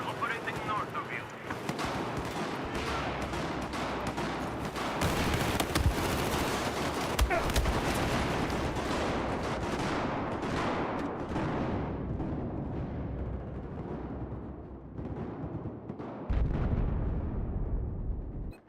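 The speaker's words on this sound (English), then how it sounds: "There appears to be an enemy machine gunner operating north of you." Dense automatic gunfire and explosions in Battlefield 4 crack in rapid bursts, loud and near, rolling on almost continuously with a brief lull before a final heavy volley.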